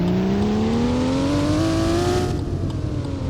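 A Ford GT engine in a racing video game drones steadily, its pitch rising smoothly as the car accelerates before easing off near the end, loud and continuous with no talking.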